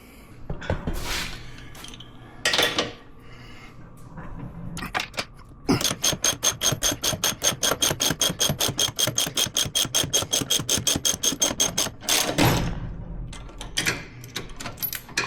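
Ratchet wrench turning on a bolt during a suspension install, a long run of rapid, even clicks after several short bursts of ratcheting, close and loud with no talk.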